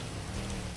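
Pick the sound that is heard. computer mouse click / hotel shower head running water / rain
rain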